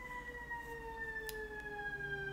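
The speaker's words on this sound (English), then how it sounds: "See the siren going?" A siren wails steadily, with slowly falling tones held over constant background noise. It sounds moderately distant and continuous throughout, with no talking.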